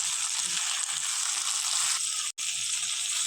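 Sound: stirring salted potatoes frying in a pan

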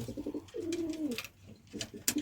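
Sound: pigeons cooing

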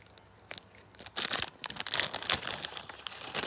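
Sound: paper being torn off

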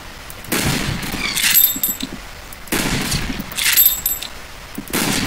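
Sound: Mosin-Nagant rifle gunshots in a video game

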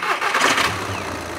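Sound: diesel car engine starting

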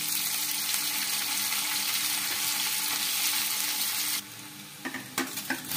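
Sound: frying cumin, ajwain and onions in iron kadai

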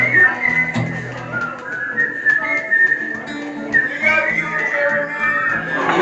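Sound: person whistling a tune

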